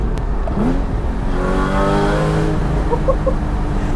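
A Porsche Cayman GT4 engine blips and rises in pitch through a downshift, heard loud and near with open windows, followed by a brief revving pull.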